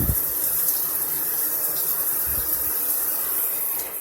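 Steady broadband hiss of water spraying from a chrome Euphoria 2 hand shower head, continuous and fairly loud with no talking.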